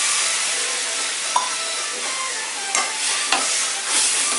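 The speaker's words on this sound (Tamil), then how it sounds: "பொடி வணங்கினோடனே பருப்பு வேக வச்ச தண்ணி ஊற்றுறேன்." Dal cooking water poured into sambar powder sizzling in a pan, making a loud, steady hiss and sizzle throughout with a few sharp clicks and spits, and no talking.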